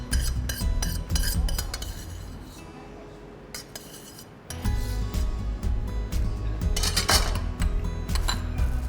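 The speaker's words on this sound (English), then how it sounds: "we'll shift this mixture in a mixing bowl" Spoon or spatula scraping and clinking against a mixing bowl as a cooked stuffing mixture for a Christmas stuffed chicken supreme is transferred, with repeated close metallic taps and scrapes and a short quieter pause midway.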